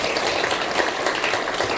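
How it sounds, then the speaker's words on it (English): Audience at a law faculty awards ceremony clapping, a dense, steady wash of many hands applauding in a hall, loud and continuous without breaks. "Please give her another round of applause."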